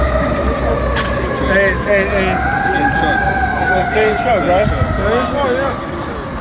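The same fire truck's siren returns, a wavering wail heard at middle distance as it circles past again, partly masked by people talking nearby.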